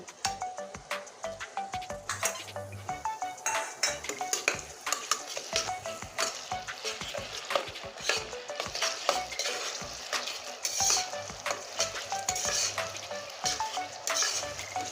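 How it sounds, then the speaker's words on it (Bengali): Onion, garlic and garlic paste fry in hot oil for a chicken curry with potatoes, giving a steady sizzle through the whole stretch while a spoon scrapes and stirs the pan in frequent knocks and clinks. "পেঁয়াজ রসুন একসঙ্গে এখন ভেজে নেব লাল করে"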